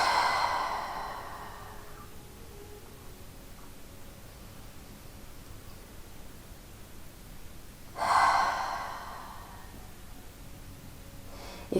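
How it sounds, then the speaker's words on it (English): Two slow, deep breaths during a relaxing full-body self-massage on a ball, each a soft, airy whoosh, one at the start and another several seconds later, close and quiet against a faint hiss. "Deep breaths."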